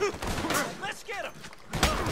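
Several gunshots ring out in a Red Dead Redemption 2 bank robbery shootout, sharp cracks scattered across a short stretch with a loud burst near the end, mixed with game sounds and voices.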